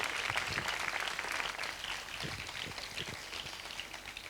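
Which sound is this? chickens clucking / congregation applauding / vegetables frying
congregation applauding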